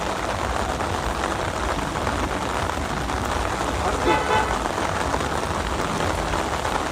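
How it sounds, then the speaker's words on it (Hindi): Heavy monsoon-style rain pours down in a dense, unbroken roar beside an auto rickshaw, with a faint car horn toot partway through. "आप बारिश देखो, कितनी बारिश हो रही है।"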